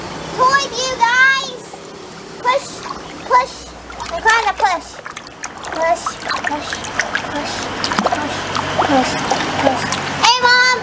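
Water splashing as someone swims in a lake, irregular bursts of splashes close by, mixed with children and adults calling and talking throughout.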